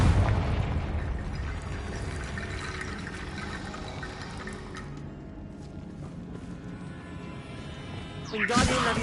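A Confringo blasting-spell explosion in the Hogwarts Legacy video game: a dense, roaring rumble fills the scene throughout, with a sharper burst flaring up near the end.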